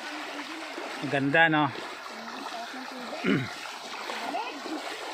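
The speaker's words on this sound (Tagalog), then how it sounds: "Ito na yung sapa na sinasabi." A flowing mountain stream along a hiking trail, a steady broadband rush of water running continuously throughout, with a person speaking briefly over it.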